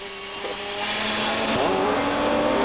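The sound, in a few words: car driven hard around a racing circuit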